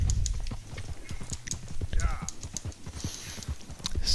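Horse hooves clip-clopping at a trot in Red Dead Redemption 2, a rapid steady patter of hoofbeats close up, with keyboard-like clicks and brief bursts of other game sounds over it.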